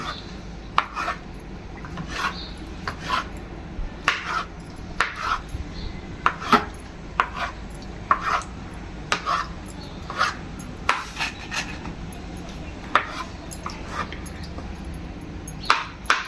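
A knife chops cooked goat blood into small pieces on a board, producing a steady run of close, sharp taps and scrapes at an uneven rhythm.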